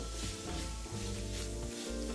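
Minced fatty pork and chopped preserved mustard greens stir-fry over medium heat in a wok, giving a soft, steady sizzle with faint rubbing of the spatula.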